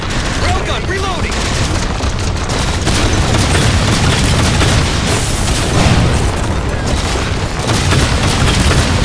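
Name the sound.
railgun firing in the video game Halo 4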